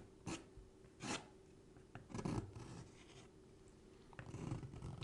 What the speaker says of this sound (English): the same brush I was just using happens to have a nice scraper end